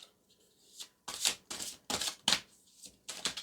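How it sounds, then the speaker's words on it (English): Tarot cards shuffled by hand close up, a series of quick crisp riffling bursts with short gaps between them, quiet and alone without talk. "See, this is why I've started shuffling off camera."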